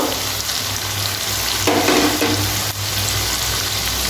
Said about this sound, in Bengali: ভালো করে সব নাড়িয়ে নেব।